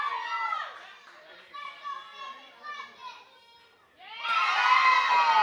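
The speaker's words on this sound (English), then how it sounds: "The entire Ascend team cheering for her." Members of a ninja training team cheer and shout for an athlete at an adult/masters ninja competition, excited voices rising and falling, then swelling into a loud burst of cheering at the end.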